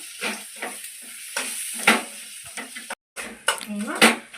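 Chili powder sizzles in a hot pan while a spoon stirs it, scraping in short repeated strokes, for a Telugu-style fish curry; someone speaks over the close, crackling frying.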